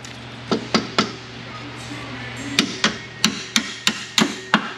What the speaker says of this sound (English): Tap that through lightly.